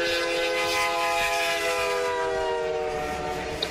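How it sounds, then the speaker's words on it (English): A train passes as a continuous loud rumble with a sustained horn-like tone throughout, steady in level and close, with faint rail clatter underneath and no voices. "So we have this train coming in here."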